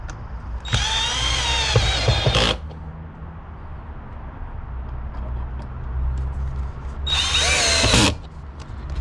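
A power drill drives screws back into the air filter housing of a 2024 Chevrolet, whining in two loud bursts of about two and one seconds over a steady background hum.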